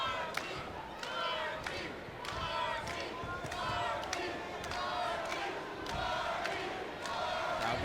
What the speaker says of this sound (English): Crowd now getting behind the hometown fighter.